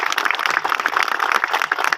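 Loud, steady applause for Manoj Patidar at a project inauguration event in Mohan Badodiya, Shajapur, a dense crowd of clapping hands sustained through the whole moment with no voices over it.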